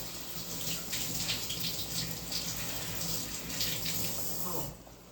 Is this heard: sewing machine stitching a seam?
no